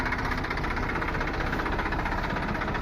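A tractor engine runs steadily nearby, a low rhythmic chugging throb that continues without pause.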